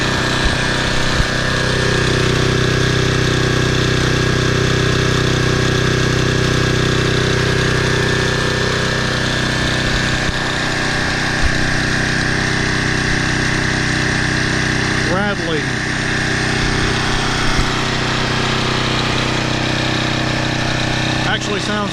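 A 2010 Toro Recycler Personal Pace lawn mower, model 20333, its small engine running steadily and revving high with an odd uneven tone, loud and close, droning continuously with a brief clank partway through.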